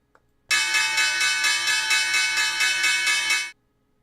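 A market-open opening bell rings as a sound effect, a bright sustained metallic clang repeated rapidly for about three seconds, loud and alone, then cutting off sharply.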